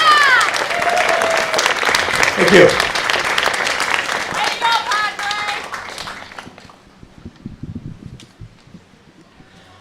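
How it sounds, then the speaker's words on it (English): An audience at the Hartland Community Band concert claps in a sustained burst of applause that fades out after several seconds, with a brief spoken thanks over it and scattered quiet sounds afterward. "So I think they deserve a big round of applause."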